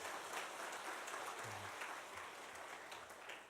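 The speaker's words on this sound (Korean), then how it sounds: "우리 박수로 축복해 주시기 바랍니다." A church congregation applauds steadily during a Sunday service, a dense wash of clapping that keeps going for several seconds with no voices over it.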